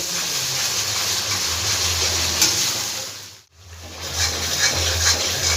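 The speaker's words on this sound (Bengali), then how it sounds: "ভালো করে মশলাটা আমি ভেজে নেবো দু থেকে তিন মিনিট আমি মশলাটাকে আগে ভেজে নেব" Spice paste sizzles and bubbles in a hot pan with a constant close hiss, cut by a brief near-silent gap before the frying resumes just as loud; stirring scrapes come through, and no voices are heard.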